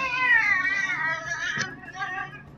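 A cat in Minecraft gives a drawn-out wavering meow followed by a shorter second meow, close and clear with a brief click between them.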